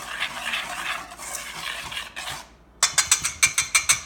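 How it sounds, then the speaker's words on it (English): A piano whisk stirs salt and a dry baking mix in a bowl, first a steady scraping rustle, then a brief pause and a run of sharp rhythmic clicks as the whisk strikes the bowl. "we're just going to whisk the salt and the mix together"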